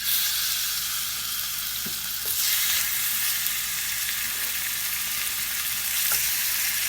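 Chicken flautas frying in a skillet give off a steady, close sizzle that holds at an even level, with a few faint clicks and bumps from the pan.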